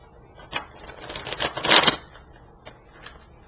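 A short burst of papery riffling, cards being shuffled together, rising to a quick crisp flurry and then a couple of soft taps.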